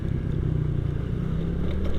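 A Yamaha Aerox scooter rumbles past up close, a brief low engine drone with rough mechanical texture.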